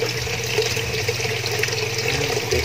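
Water dripping and trickling into a backyard fishpond filtration setup, a continuous close splashing wash with a low pump-like hum underneath and no talking.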